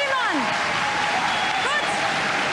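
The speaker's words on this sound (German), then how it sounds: "einen Riesenapplaus" Studio audience applauding on a 1993 German TV game show, a steady dense wash of clapping throughout with brief rising whistles or cheers above it.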